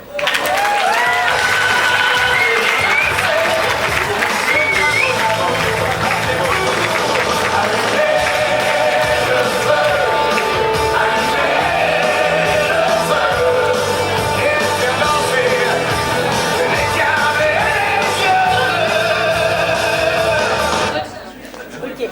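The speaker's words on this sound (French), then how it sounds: "Je vous propose d'accueillir et d'applaudir bien fort" Loud, sustained crowd applause with cheers and shouts, continuous for about twenty seconds before cutting off abruptly near the end.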